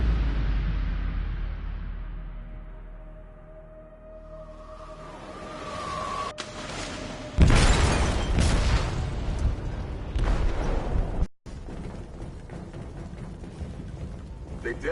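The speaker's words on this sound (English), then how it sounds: "They detonated an explosive in the hold." A detonation goes off in a ship's hold in the video game Detroit: Become Human, a sudden loud boom near the middle that gives way to rumbling, turbulent noise, with a brief dropout just before the end.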